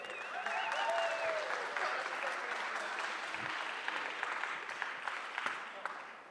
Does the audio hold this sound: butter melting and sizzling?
no